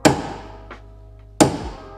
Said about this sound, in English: Just use a hammer and a chisel to do that.